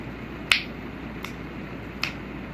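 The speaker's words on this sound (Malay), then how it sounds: "Kalau petik jari pula, bunyinya halus dan lembut." Three finger snaps at an uneven pace: a crisp, bright first snap, then two softer ones, clicking cleanly in a quiet room as part of a body-percussion demonstration.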